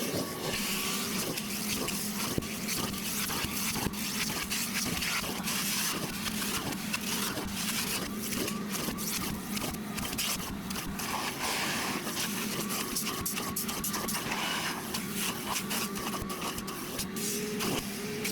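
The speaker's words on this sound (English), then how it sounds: "I've got the extractor kit hooked up to a rigid portable shop vacuum" A Ridgid portable shop vacuum with a carpet extractor kit attached runs continuously at close range, a steady motor roar with airy suction noise and faint irregular rattles throughout the clip.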